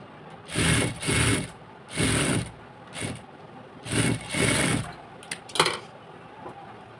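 A sewing machine stitches a palazzo seam in several short bursts, each a second or less, separated by brief pauses, close and fairly loud with a few small clicks near the end.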